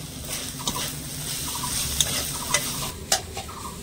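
Mixed vegetables frying in a pan and being stirred, a soft continuous sizzle broken by occasional scraping strokes of a spatula, close and fairly quiet.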